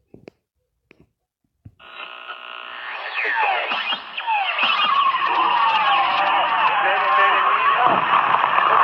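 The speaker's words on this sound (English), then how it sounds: "you could actually hear some distortion" A harsh, buzzing electronic tone swells in after a few faint clicks and holds steady, sounding gritty and distorted throughout, from Godzilla: King of the Monsters trailer audio.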